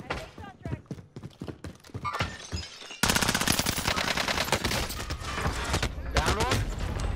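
Rapid automatic MP7 hip-fire in an online shooter game, a loud sustained burst of gunshots that grows denser and steadier partway through, with players talking over it.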